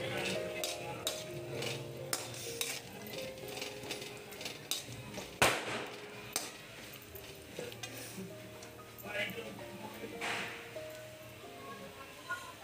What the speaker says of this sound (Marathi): एकदम मस्तपैकी लाल होईपर्यंत आपल्याला तळून घ्यायचं आहे।